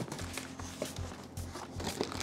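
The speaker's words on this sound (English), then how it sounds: "A lot of unwrapping to do." Plastic packaging rustles and crinkles continuously as TTRacing Maxx Air gaming chair parts are unwrapped, soft close crackling with brief louder crunches.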